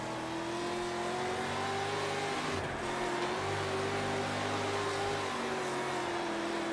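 A dirt race car engine in the WoO Dirt Racing game holds a steady droning whine with a brief dip and rev change midway, loud and continuous throughout.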